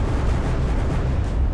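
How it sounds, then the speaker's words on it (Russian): A cluster bomb explodes in Garry's Mod: a loud, dense, continuous roaring rumble of blasts, heavy in the low end and sustained throughout without a break. "она вначале взрывается и раскидывает всю технику, а потом уже только эти кассеты разлетаются"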